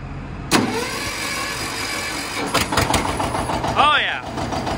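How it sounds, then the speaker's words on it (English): A John Deere 730 tractor engine, long unused, cranks with a sharp start and settles into a loud, close, steady running rumble, with a few clanks and brief speech near the end. "One of them being my 730, which I haven't started for a while."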